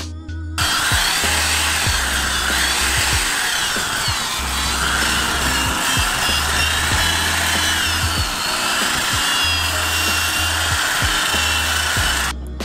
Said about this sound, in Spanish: Con esta herramienta que estoy colocando ahora la voy a lijar por dentro